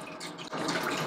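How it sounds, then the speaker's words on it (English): A batch of goat fiber is lowered into a basin of plain rinse water with no soap, giving a soft trickle that swells into steady sloshing and running water after a brief pause. "I'm placing this batch in some water again."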